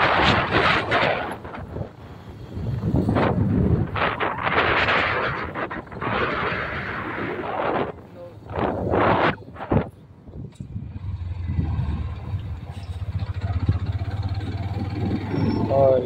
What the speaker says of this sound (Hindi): हम जा रहे हैं अपनी बाइक पे